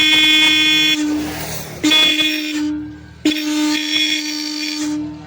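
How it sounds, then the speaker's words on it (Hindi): A car horn connected directly to a battery sounds in three honks of a second or two each with short gaps, loud and close, its steady buzzing tone slightly rough from a fault. "तो हॉर्न बज रहा है"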